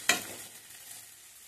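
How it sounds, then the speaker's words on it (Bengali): Ichor fingers, jackfruit fritters, stirred in hot oil: a sharp scrape and sizzle at the start that fades into a quiet, crackling fry. "আমি এইভাবে গরম তেলে এটাকে নেড়ে চেড়ে নিয়েছি।"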